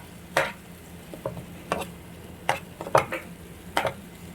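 Chickpeas frying in a pan and stirred with a utensil, heard as a faint sizzle broken by about seven short scraping and clattering stirs at an uneven pace. No one speaks.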